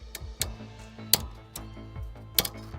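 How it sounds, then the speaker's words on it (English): Molten Freddy's random clicks from the FNAF game, a string of sharp ticks spaced unevenly over a low mechanical hum, some louder and crisper than others. "Molten Freddy also has other random clicks as heard here"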